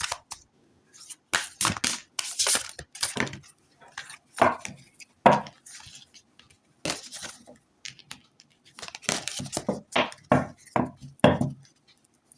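Tarot cards being shuffled by hand, a string of crisp riffling and slapping bursts with short pauses between them, close and fairly quiet with no talking.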